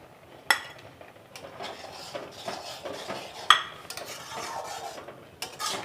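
A spoon stirs carrot halwa in a pot of milk with almonds, cashews and raisins, giving repeated metallic scrapes and knocks against the pot, with a couple of sharper clanks, close and moderately loud, with no voices.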